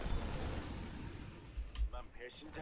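Artillery cannon fire in a bombardment-focused video game: faint, muffled low booms, one early and a pair a little later, under a quiet background while voices talk.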